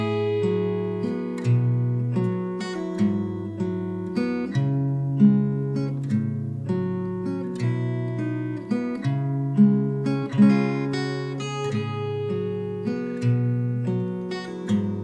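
An acoustic guitar plays a fingerstyle passage, mixing picked notes and bass lines with sharp percussive slaps in a steady rhythm, close and clear with no voices.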